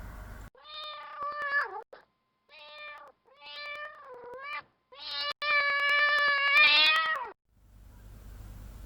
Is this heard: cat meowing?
yes